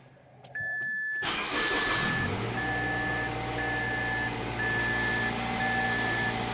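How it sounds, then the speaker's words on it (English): A Mazda car engine cranks briefly and catches, then settles into a steady idle while a warning chime repeats at an even pace over the running engine. "We're gonna start the car up"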